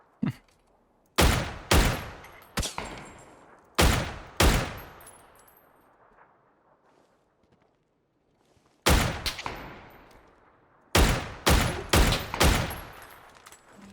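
Loud bursts of gunfire in the video game PUBG ring out in clusters, rapid sharp shots with echoing tails, separated by quiet gaps before another volley.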